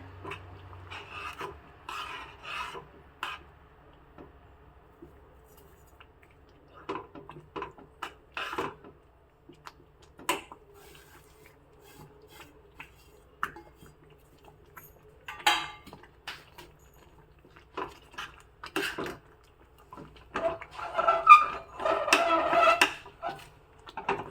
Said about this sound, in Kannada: ರವೆಯನ್ನು ಹಾಕಿಬಿಟ್ಟು ಕೈ ಆಡಿಸ್ಕೊತಾ ಇದ್ದೀನಿ